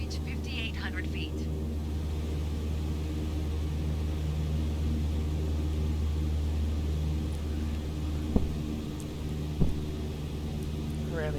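An airplane takes off in Microsoft Flight Simulator 2020, its engine drone a steady low hum under a couple of faint clicks.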